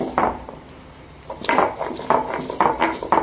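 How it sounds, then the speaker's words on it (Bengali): Boiled chili greens being ground on a stone slab by hand, giving a run of scraping, knocking strokes that begin quietly, then come in rapid rhythmic bursts close by, with no talking. "লঙ্কার শাক সিদ্ধ বেটে নেব।"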